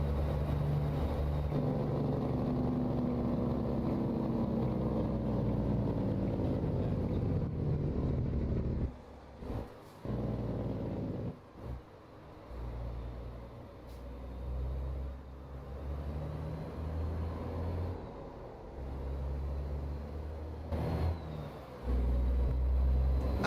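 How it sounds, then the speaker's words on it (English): Detroit Series 60 diesel truck engine in American Truck Simulator, a steady loud low rumble that holds for most of the time, dips and stutters briefly near the middle, then swells again toward the end. "This is a Detroit Series 60, Randy."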